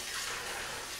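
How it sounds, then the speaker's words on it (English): Cold tap water runs steadily into a sink for a rinse after shaving, a soft continuous hiss heard alone and fairly faint. "cold water rinse first."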